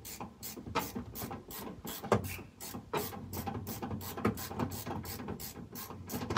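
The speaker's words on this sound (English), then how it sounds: "So I need to completely take this bolt out." A wrench ratchets in quick repeated clicks on a fuel tank strap bolt under a 1959 Chevy Impala, faint and close with irregular bursts of turning.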